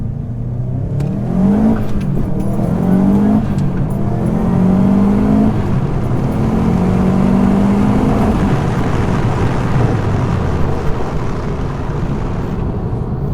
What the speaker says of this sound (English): I never actually did a first gear pull with this turbo